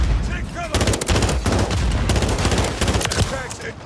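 FR 5.56 rifle firing in the video game Modern Warfare 3, loud rapid bursts of gunshots packed close together, filling the whole moment with no talking.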